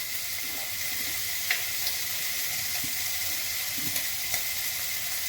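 Prawns and bottle gourd sizzle steadily in a hot pan in a home kitchen, a constant close frying hiss with occasional faint stirring clicks and no talking.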